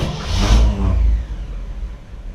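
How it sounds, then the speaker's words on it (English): A '59 Chevrolet Bel Air's 348 V8 cranks and catches on the key, with no gas pedal. It roars up loud and close, then settles into a steady, lower rumbling idle. "It should just start at the touch of the key without touching the gas pedal."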